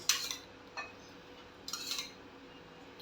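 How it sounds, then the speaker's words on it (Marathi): A metal spoon scrapes and clinks against a pan while semolina roasts in ghee for besan-semolina laddoos, in a few short bright strokes separated by quieter gaps, close and alone. "आणि रवा भाजून घेते आहे"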